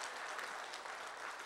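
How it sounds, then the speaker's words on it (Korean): A church congregation breaks into steady applause, a dense, even wash of many hands clapping at once, fairly faint and distant, with no voices on top. "영광의 박수 한번 해요."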